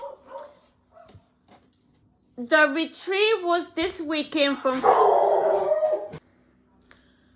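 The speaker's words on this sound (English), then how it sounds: "the dog started barking because a dog was barking outside" An indoor dog barks and yips in a rapid, loud burst in reply to another dog barking outside, with someone talking just before and over the noise.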